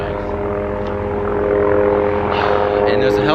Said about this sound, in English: And there's a helicopter coming